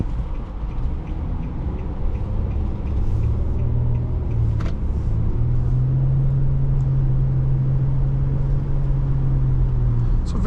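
A steady, low engine drones from inside the cabin of a 2010 Nissan Murano SL, its tone holding a smooth growl that rises slightly as the car accelerates.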